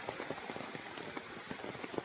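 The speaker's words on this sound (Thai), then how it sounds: "ฝนตกแต่เช้า" Steady rain pattering on a surface at a Buddhist temple, with scattered drips and small splashes popping out irregularly over a soft continuous hiss.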